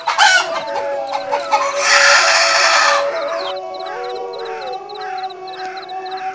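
A chicken clucks loudly up close, with a rooster-like squawk and rapid repeated clucks, over a steady humming drone in the background.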